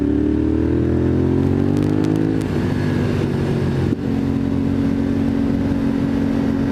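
A Honda motorcycle on an autumn road accelerates close up, its engine note climbing through the gears with a brief dip between shifts, then holding a steady loud drone.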